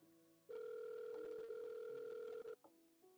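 A telephone call rings out with a steady, loud electronic ring tone lasting about two seconds, then cuts off with short tones and clicks as it forwards to voicemail.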